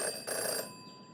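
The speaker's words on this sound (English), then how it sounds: "In her short time as a detective, Jenny had learned never to ignore a ringing phone" A telephone rings in the video game Jenny LeClue, two quick close bell trills in a row, fairly loud and clear with no talking over them.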